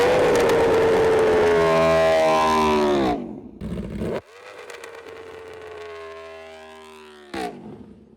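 A superbike, a Yamaha R1M or Aprilia RSV4, fires off a launch control start: a loud, near high-revving engine wail climbing through gears, then a sharp cut, a burst, and another rising run before a final gear change.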